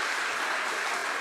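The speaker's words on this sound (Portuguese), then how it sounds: "Uma salva de palmas ao Senhor." A church congregation claps during a service, a short, even wash of applause with no voices heard.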